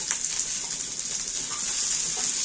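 Onions and green chillies fry in oil with a bright, steady hiss and crackle, while a spatula stirs them with soft intermittent scrapes at close range.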